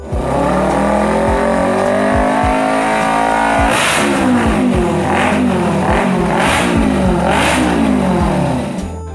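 A Yamaha R25 250cc motorcycle engine revs hard several times, with rising and falling pitch sweeps over a steady idle, loud and close with no voices.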